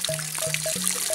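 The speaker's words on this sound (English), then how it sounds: "The jar is leaking." Water leaks from a pitcher jar in a close, gurgling trickle, with small drips and bubbly tones repeating in quick, irregular succession.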